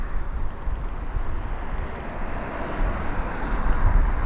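A business jet taxis off the runway at London Heathrow, its engines a steady, broad rumble with some wind buffeting the microphone. The level swells slightly toward the end, and no one speaks.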